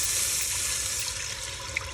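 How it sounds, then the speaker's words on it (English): Water pouring steadily into a cooking pot while making mushroom ramen broth, a continuous bright splashing stream that fades slightly toward the end. "So to the pot, I'm gonna go ahead and add 3 cups of water."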